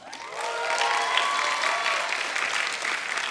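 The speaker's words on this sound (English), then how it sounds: "We would like to give all of you our heartfelt applause." A university commencement crowd at UCSB applauds, a broad, steady roar of many hands clapping that swells quickly and holds, with faint cheers and crowd noise mixed in.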